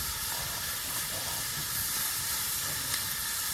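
Minced meat with chopped onion and pepper sizzles loudly and continuously in a pan outdoors during a highland trip, a steady broad hiss with no pauses.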